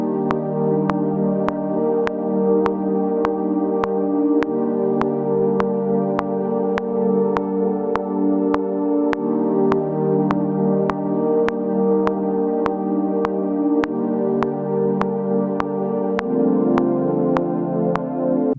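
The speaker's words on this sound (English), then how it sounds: "so I added a top layer with a different pad sound from Serum" Layered synth pad chords built in Serum swell and hold under a steady, evenly spaced click, shifting smoothly between chords over a long unbroken stretch with no voices.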